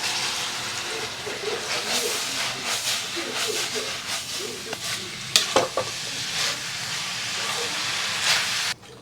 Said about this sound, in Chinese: 炒香倒入羊肉，